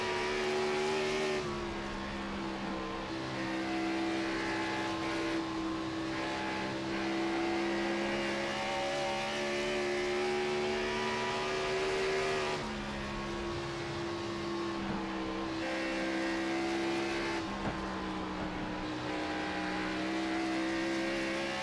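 Race cars at Dover in a racing video game roar past in several waves, a steady engine drone with swelling whooshes as each group passes, heard alone without talk.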